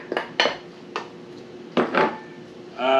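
Chopped peppers and red onion tumbling into a salad bowl for Mexican street corn salad, heard as a few separate clattering drops and scrapes against the dish, with a louder clatter near the end.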